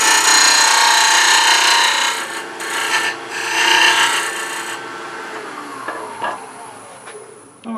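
A wider parting tool rasps steadily into a spinning wood blank on a lathe, cutting a tenon. It runs loud and continuous, dips briefly, then fades as the cut finishes.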